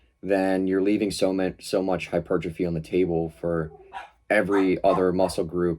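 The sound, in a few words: dogs barking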